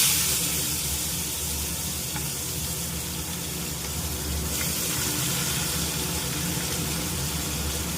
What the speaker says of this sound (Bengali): আমি পেঁয়াজটা লাল লাল করে ভাজছি।